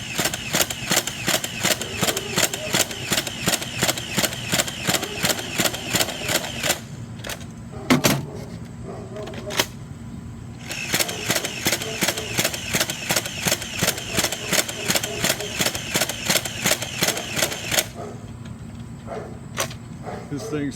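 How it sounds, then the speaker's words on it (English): A Nerf Icon Stampede ECS-50 dart blaster fires in rapid full-auto bursts, giving a fast rhythmic mechanical chatter. Two long volleys are split by a short pause with a few clicks, and no one talks. "enjoy the firing demo of the Stampede"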